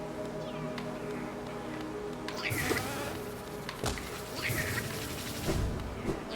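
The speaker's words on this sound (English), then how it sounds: "Something about these bees" Bees buzz in the video game Thymesia, a wavering insect drone swelling and fading as they pass close, layered over low ambient hum with a few sharp clicks and thuds.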